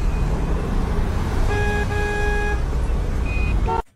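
Heavy morning traffic rumbles steadily up close while a car horn blares in a sustained toot lasting about a second, followed by a shorter honk before the sound cuts off abruptly.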